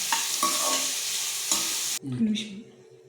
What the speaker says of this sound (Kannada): ಒಂದು ಸ್ವಲ್ಪ ಸಾಲ್ಟ್ ಹಾಕ್ಕೊಂಡು ಫ್ರೈ ಮಾಡ್ಕೋಬೇಕು.